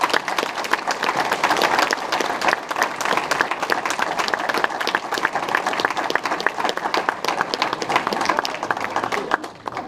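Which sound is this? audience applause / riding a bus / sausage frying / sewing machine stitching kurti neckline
audience applause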